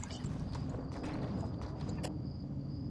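Horse hooves walking in the video game Star Stable Online, a steady clip-clop of footfalls, close and fairly quiet, with faint game ambience behind.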